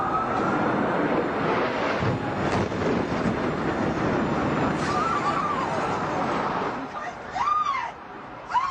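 Airplane flying overhead during the September 11 attacks, a loud broad roar of engine and wind noise that fades somewhat toward the end, with faint voices and background commotion.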